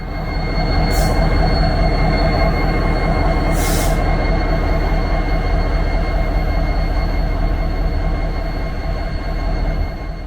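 Freight trains led by CNW and Western Pacific heritage locomotives pass between Rochelle and Chicago, a steady loud rumble of rolling railcars with wheel squeal and brief high screeches near the start, continuous throughout.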